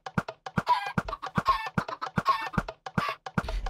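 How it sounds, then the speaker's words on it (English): Several chickens in a video game cluck in quick, overlapping bursts, a busy rhythmic chatter of short notes close by, with no voices. "these are going to be your seed chickens, so they're going to lay eggs for us"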